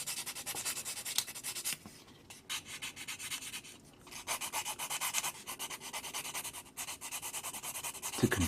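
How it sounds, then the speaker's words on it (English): A 1/144 Zeta Gundam model part sanded with 600 grit sandpaper: close, soft, rhythmic scratchy rubbing in repeated back-and-forth strokes, with a couple of brief pauses, faint and steady. "I'm going to sand it down. Actually, I'll just take one of these, 600 grit"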